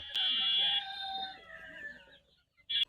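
Chickens of several breeds, kept on fallow land in front of a home in Saidpur, let out one drawn-out, wavering call that fades away. A brief sharp squawk follows near the end.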